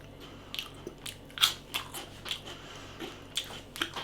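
Close, crisp crunching bites on crispy Oreo Joy Fills snacks, a series of sharp cracks and brittle chewing spread across a few seconds, quiet and without talk.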